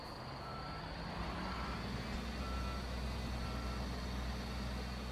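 A truck in a construction simulator game reverses with a repetitive electronic beeping over a steady low engine drone, continuous and fairly close.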